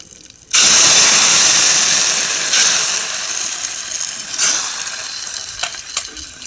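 Cumin, curry leaves and garlic drop into hot oil with a sharp burst of sizzling that continues loudly, with faint clinks of stirring.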